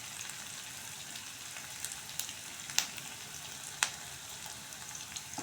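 Onion and garlic fry in oil as dill leaves go into the pan for a shepu bhaji curry, giving a faint, steady sizzle with a couple of small clicks, quiet and close with no talking.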